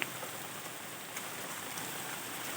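Spring rain falls steadily outdoors as an even, hissing patter of drops with no voices, fairly soft and continuous throughout.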